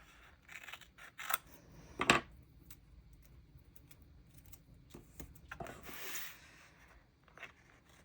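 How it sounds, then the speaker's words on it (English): Scissors trimming paper in a bullet journal near the spine, with quiet close snips and rubbing of paper, one sharper cut standing out, and soft handling sounds between them. "Let's trim these little bits and then we'll decide."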